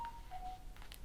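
A faint electronic notification tone from a phone, sent by the phone company, plays briefly: a thin beep that steps slightly lower in pitch, quiet against background hiss.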